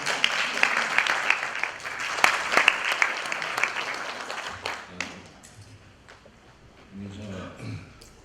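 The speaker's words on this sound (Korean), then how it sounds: "뜨거운 박수로 모시겠습니다" Warm applause from an audience at a 3.1 Movement centennial year August 15 commemorative ceremony greets a foundation chairman, dense steady clapping for about five seconds, then fading out as a voice begins speaking.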